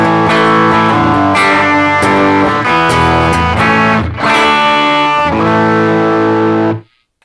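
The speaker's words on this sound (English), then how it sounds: "Here's my tone with some overdrive." Electric guitar played through overdrive for a warm rock tone, strummed chords ringing with thick sustained harmonics, loud and close, alone without talk, fading out at the end.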